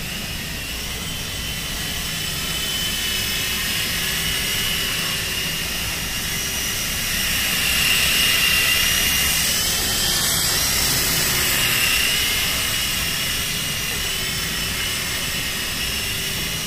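An E-flite Blade MCXT micro RC helicopter flies steadily indoors, its small rotor giving a continuous high whine and whir at a fairly close, even level, swelling slightly midway, with no talking.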